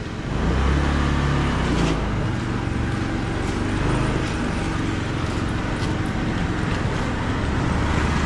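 A warmed-up motorbike engine runs on a street in Cambodia, a loud, steady low rumble that holds constant throughout amid general road noise.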